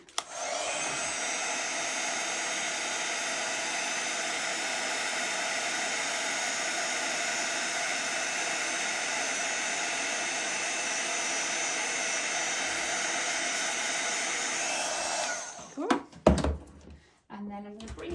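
A heat tool blows a loud, steady whooshing roar for about fifteen seconds while melting metallic silver superfine embossing powder on a stamped card, then cuts off into brief handling noises.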